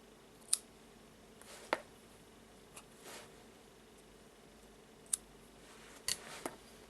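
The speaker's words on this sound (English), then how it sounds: "Now I will take the scissors and cut." Scissors snip crochet thread in a quiet room, giving a handful of faint, crisp clicks spaced irregularly over a soft background hiss.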